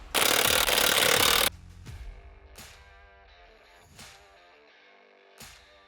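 Lug nuts come off a C8 Corvette Z06 with a 22mm socket: a loud, dense burst of mechanical whirring for about a second and a half, then quieter scattered clicks and taps over a soft tonal background.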